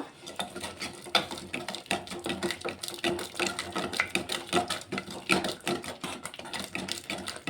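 A ladle stirs wet tomato chutney in a pan, making dense, continuous scraping and clinking strokes that repeat steadily throughout, close and fairly loud.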